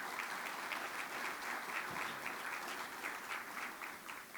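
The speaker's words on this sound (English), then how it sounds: "can you give yourselves a round of applause?" Guests at an appreciation luncheon for board and commission members applaud themselves, a continuous roomful of clapping at moderate volume that tapers slightly toward the end.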